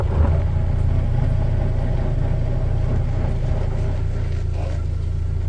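A 2024 Toyota Land Cruiser crawls over rocks off-road in multi-terrain rock mode, giving a low, steady engine rumble heard close from inside, with faint creaks and no clear talk.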